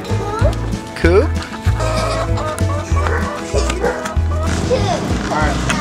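Chickens cluck repeatedly close by at a backyard coop, with short bursts and calls over steady low background noise while people talk nearby.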